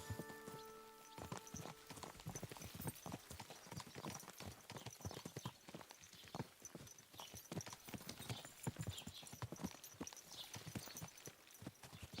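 Steady clip-clop of horse hooves walking in the video game Kingdom Come: Deliverance II, a continuous rhythmic patter of hoofbeats over faint background sound, with no one talking.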